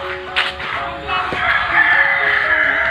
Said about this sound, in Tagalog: Tingnan natin maraming manok.